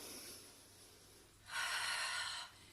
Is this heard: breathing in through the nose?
yes